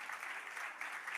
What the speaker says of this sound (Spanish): Démosle un aplauso, pues, fuerte.